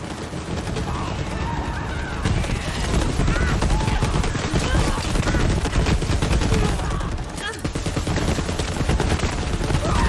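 Legendary gun in Borderlands 3 firing explosive missiles at a rapid, rising rate, a dense continuous barrage of shots and blasts that stays loud for the whole stretch, with one brief dip partway through.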